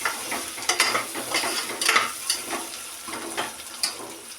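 Ingredients sautéed in an open pressure cooker, with a light sizzle broken by repeated scraping and clinking stirs of a spoon against the metal pot, close and moderately loud.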